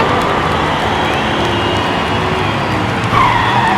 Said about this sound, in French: dérapage très appuyé de Mr. Russell avant le dernier virage